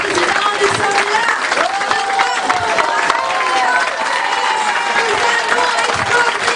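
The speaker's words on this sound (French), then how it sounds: "Merci et un tonnerre d'applaudissements." An audience breaks into loud, continuous applause with scattered cheers, the clapping close and dense throughout, while voices rise in excitement over it.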